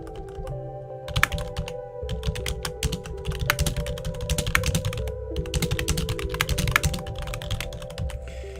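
Quick bursts of keystrokes on a computer keyboard clatter in uneven runs with short pauses between them, close and fairly quiet, with no talking.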